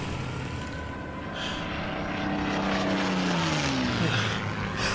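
Propeller warplanes drone steadily overhead in a war-zone scene of the video game Death Stranding, the engine hum swelling louder and shifting in pitch as an aircraft passes close by.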